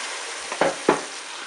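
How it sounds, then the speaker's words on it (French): Bacon lardons, cabbage and potatoes are stirred inside a Cookeo electric multicooker: a quiet sizzle with two quick, close scraping strokes in succession. "Voilà, je mélange tout ça."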